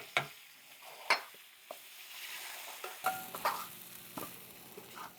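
Shrimp for pad thai being fried in a pan, a soft steady sizzle with scattered scraping and clinking stirs of a utensil, close but quiet, with no talk.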